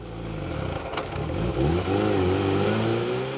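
A 4x4 off-road vehicle at a competitive off-road event in Parys revs hard with a loud, close, sustained engine roar that rises in pitch as its wheels spin on grass.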